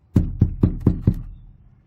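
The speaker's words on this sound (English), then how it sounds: "Here's what it sounds like when I tap on the inside of a foam board that has" Five evenly spaced, hollow knocks from tapping on the inside of a foam board with no PMF coating, dull and boomy with a lingering low resonance after the last tap.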